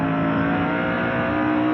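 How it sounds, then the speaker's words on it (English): The 29 Winnebago Dodge NASCAR truck races past at North Wilkesboro during the 1996 Lowe's 250, a loud, steady engine roar that stays strong throughout without fading. "That's Bob Keselowski, the 29 Winnebago Dodge are going by."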